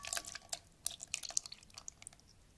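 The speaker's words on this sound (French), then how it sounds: "on vient verser notre mélange de fraises directement dans le saladier" Thick strawberry mixture pours into a salad bowl that already holds bananas, orange and syrup, making soft, faint wet drips and splats in quick irregular bursts with no talk.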